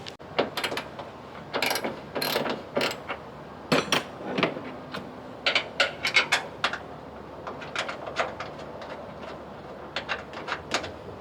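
A hand ratchet with a 12 mm socket loosens the hood bolts on a vehicle, giving irregular runs of quick, sharp clicks close by, with short pauses between strokes.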